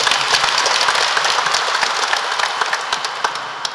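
A Catholic congregation at a parish feast-day celebration applauds to welcome the parish priest, a full, steady round of clapping from many hands that gradually thins out toward the end.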